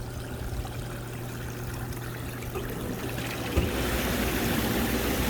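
Steady rushing, bubbling water with a low motor hum underneath from a Bullfrog Spas A7 hot tub, growing louder and frothier partway through as the second pump's neck jets kick in.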